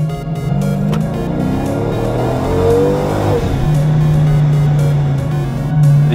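A ProCharged, centrifugal-supercharged all-wheel-drive Dodge Charger R/T accelerates on an open road, its engine note climbing steadily in a loud, continuous pull with a rising whine, then settling into a sustained drone.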